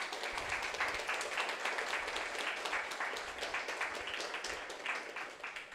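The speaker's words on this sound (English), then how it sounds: "So let us give a round of applause again." An audience applauds after a lecture-demonstration, a steady, full round of clapping from many hands in a hall, even and sustained throughout without fading.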